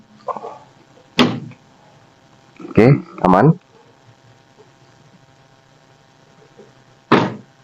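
A 1987 Daihatsu Charade G100 CX has its doors shut several times: a single solid thunk, two quick closes in succession, then one more after a pause, with brief talk at the start.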